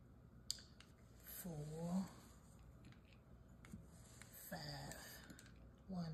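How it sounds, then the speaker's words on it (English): Scissors snip dough into strips for a giant cinnamon bun cake, a few quiet close cuts spaced out over a faint room background. "So what we're going to do, going to cut some strips. I need at least 6 strips."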